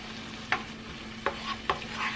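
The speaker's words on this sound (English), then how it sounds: "let's get this garlic in the pan and get it to going" Garlic sizzles softly in a pan as a utensil stirs it, with three sharp clicks and scrapes standing out above the low, even frying hiss.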